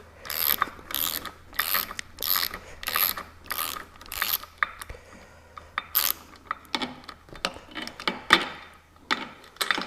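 A hand ratchet works a nut off a stud on a 40HP Mercury outboard, close clicking bursts of the pawl in repeated strokes with short pauses between them.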